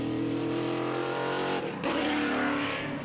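A vintage race car engine at Road Atlanta roars loudly at high revs, holding a steady whine, briefly dropping, then surging back up strongly.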